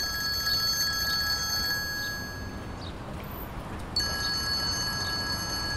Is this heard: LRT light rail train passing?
no